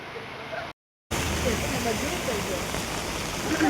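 Rain falls steadily on a rainy day out in Alibag with umbrellas up, a dense, even hiss that cuts out briefly and then resumes, with faint voices beneath it.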